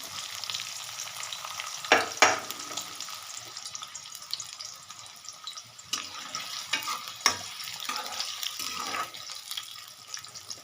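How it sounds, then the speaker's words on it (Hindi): Onion frying in oil left over from frying okra, a steady close sizzle with several scraping stirs of a spoon against the pan, moderately loud, no voices. "अब मैं इसी ऑयल में मैं अब प्याज डालूँगी"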